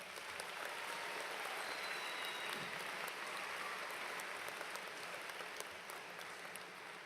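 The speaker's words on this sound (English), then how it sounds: "Please give them a round of applause." Audience applause at a 2010 graduation ceremony, a sustained wash of many hands clapping in a large hall, steady and fairly distant, without speech.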